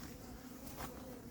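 Honey bees buzzing inside an anti-hornet tent set over a hive outdoors, a faint continuous hum with a brief louder pass near the end.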